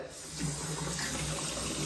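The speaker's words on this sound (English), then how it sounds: "I'm going to put this under cold water to stop the boiling process so that we don't burn the coffee." Cold tap water runs steadily over a hot stovetop coffee pot in a kitchen sink, a continuous hissing splash heard up close with no talking.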